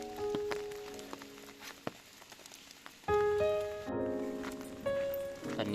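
Rain falls steadily outdoors at a mountain campsite in Thailand, pattering with scattered louder drops; tonal background sounds swell in about halfway through and continue under the rainfall.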